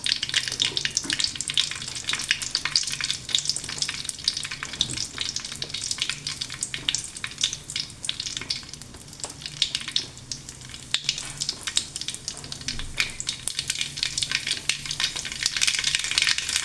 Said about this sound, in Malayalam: ഇച്ചിരി കടുകിടാം, ഇത്രയും കടുകിടും. നമുക്ക് 2 വറ്റൽമുളക് ഇടും.